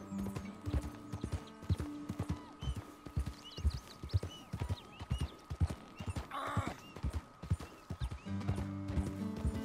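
Horse hooves clip-clop steadily while riding in Red Dead Redemption 2, a continuous rhythmic trot of close, distinct hoofbeats, with a brief whinny partway through and no talk.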